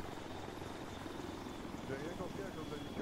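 Helicopter in the military video game ArmA 3, a continuous rotor and engine drone heard steadily throughout, moderately loud, with people talking over it.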